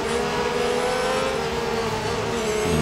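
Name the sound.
F1 race cars engines in Real Racing 3 video game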